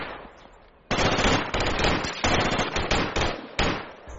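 Rapid automatic gunfire in the video game Project Reality, aimed at a vehicle; loud, close bursts of full-auto fire begin abruptly after a quieter start and continue with brief pauses, dense and sustained.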